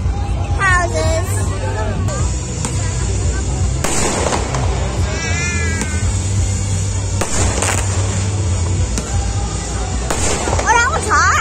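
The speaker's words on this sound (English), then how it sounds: "lot of fireworks" New Year fireworks burst repeatedly at night, sharp booms and crackles scattered at irregular intervals, some whistling rockets rising, with a crowd and voices talking throughout.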